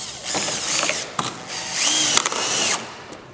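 Power drill drives fasteners through a metal roof hip and ridge cap into its back flange, a close whirring run-up with ratcheting clicks and a couple of sharp stops.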